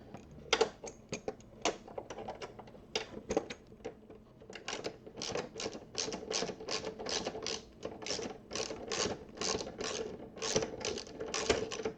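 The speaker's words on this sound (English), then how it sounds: "Just one bolt, and we're going to just loosen that one bolt." A tool loosens a bolt on the tip-over protection of a Honda Goldwing motorcycle, giving rapid, crisp ratcheting clicks that come in quick runs and grow steadier and denser toward the end.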